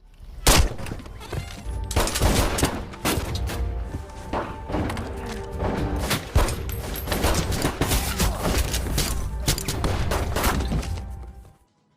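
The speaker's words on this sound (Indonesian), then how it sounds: "Paul bersama anak buahnya menyerang peternakan si koboi, memicu baku tembak yang sengit" Gunfire in a film shootout at a cowboy's ranch, as a gang attacks; dense, continuous volleys of loud shots and thuds crowd together for over ten seconds before cutting off abruptly.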